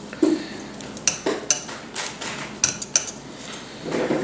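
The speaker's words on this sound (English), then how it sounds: "I'm going ahead and add in the ricotta cheese" Ricotta cheese is spooned into beaten eggs in a bowl, giving a series of close clinks and knocks of a spoon against the bowl with soft, wet plops between them. No one speaks.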